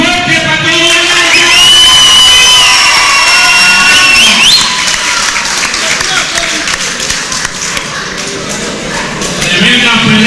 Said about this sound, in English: ¡Aplauso fuerte para todos!